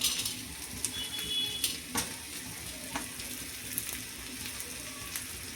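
Whole spices dropped into hot oil fry with a steady close sizzle and crackle, with a few light clinks of a utensil against the pan and no voices.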